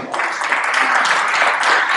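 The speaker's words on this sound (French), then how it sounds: "Christian Bourizard, sous vos applaudissements, président d'ADN Tourisme" An audience at a heritage tourism conference applauds with steady, dense clapping throughout, with no talk over it.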